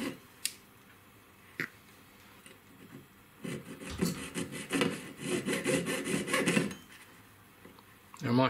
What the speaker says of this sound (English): I'll just cut those markings in, and I'll just use my 4-0 saw blade